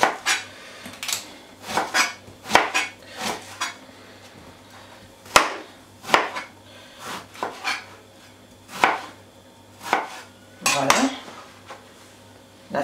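An eggplant being chopped on a board with a knife for Congolese oyster mushroom parcels: a dozen or so sharp, close chops spaced at an uneven, unhurried rhythm, with brief quiet gaps between cuts.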